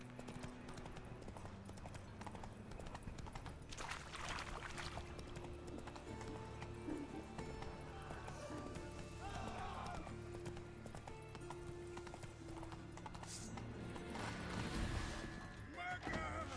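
Galloping horse hooves in The Witcher video game, Geralt's mount, beat a steady rapid clip-clop throughout, with occasional whinnies over a dense bed of game ambience and background sound.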